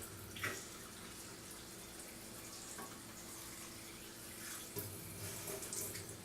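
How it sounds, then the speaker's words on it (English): A tap runs steadily as cold well water fills glass canning jars for raw-pack carrots, a continuous close splashing stream with a brief brighter surge partway through. "I'm just going to fill these jars with cold water"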